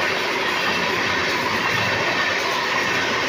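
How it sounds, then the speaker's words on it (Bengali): A train rolls past a rural Bihar halt where it does not stop, a steady loud rumble of wheels on rail with faint rhythmic clatter, close by and continuous, with no talking. "এই যে দেখো ট্রেনটা আসতেছে।"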